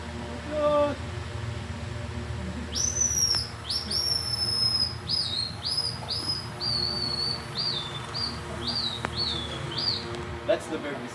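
A Palawan tribesman whistles bird calls: a voice imitating birds with a run of about a dozen short, high, falling whistled notes in a steady rhythm, close and clear over a low background hum.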